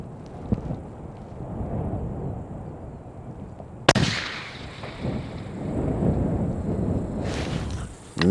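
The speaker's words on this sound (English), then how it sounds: "I'm really shooting directly into the wind" A single sharp hunting rifle shot cracks out at an outdoor range, La Perla Range, fired directly into the wind at an IPSC target. Steady wind rumble fills the background before and after the loud report.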